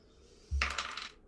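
Dice rolled for hit dice during a tabletop role-playing game: a single quick clatter as they land, then a short rattle settling away, close and alone.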